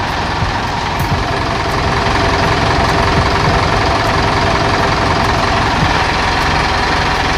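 A car engine idles steadily with its oil dipstick pulled out, a constant close rumble with light ticking and no break throughout.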